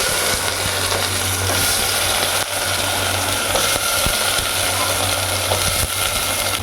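Onions dropped into hot oil in a pan during a morning home cooking session, sizzling steadily with a constant hiss, a low hum underneath and occasional small clinks.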